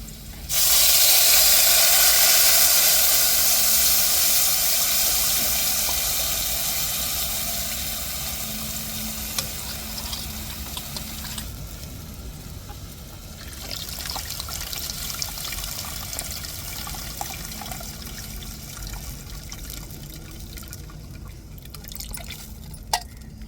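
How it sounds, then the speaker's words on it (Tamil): Dissolved tamarind water for rasam is poured in a loud, close, splashing rush that gradually fades into a softer hiss and trickle, with no talking. "புளியே கரைச்சி வச்சுருக்கேன் நம்ம எரித்து ஊற்றிக்கிடுவோங்க"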